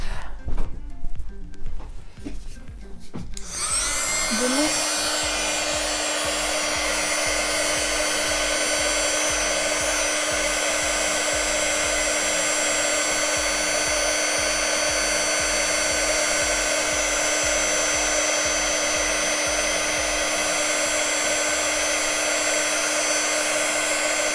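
A heat gun switches on after a brief rustle and blows steadily at close range, a loud continuous whooshing roar with a fixed whine, melting embossing powder on a stamped greeting card.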